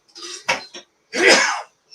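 A close, breathy intake and small throat sounds lead into one sharp, explosive sneeze, then silence.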